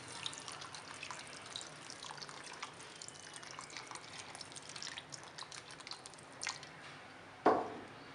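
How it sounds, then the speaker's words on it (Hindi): Water is poured into a pan of kofta curry to make the gravy: quiet dripping and liquid sounds build to a brief louder splash near the end. "जितनी आपको ग्रेवी पसंद हो आप उतना पानी शामिल करें।"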